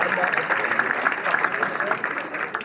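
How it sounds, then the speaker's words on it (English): A workshop audience at a UX design storytelling session applauds itself, a dense, even round of clapping from many hands that fills the room steadily. "Give yourself another round of applause, guys."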